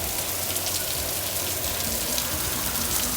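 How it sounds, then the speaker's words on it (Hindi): Heavy rain pours down steadily in a dense, continuous hiss, loud and close, with no voices over it. "अब देखें इतनी बारिश हो रही है"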